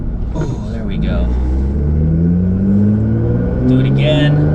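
Nissan GTR engine rising as the car accelerates to about 40 mph before hard braking, a low rumbling drone climbing in pitch under a voice talking from inside the cabin.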